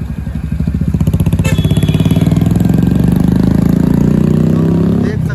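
A heavy motorcycle engine runs steadily on a hilly road around Nainital, its loud pulsing throb rising in pitch as it accelerates, then easing off near the end.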